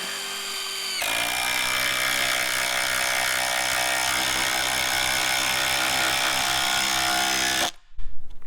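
A Ryobi P239 brushless impact driver on an older 3 amp hour battery drives a 3/8 by 3 inch lag bolt, a loud, steady rapid hammering whine for about seven seconds, then stopping abruptly, followed by brief clatter.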